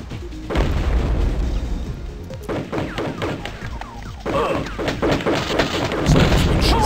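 Repeated thumping shots and booms in quick irregular bursts from the video game Crusader: No Remorse, mid-distance, over a rumbling background with faint talk.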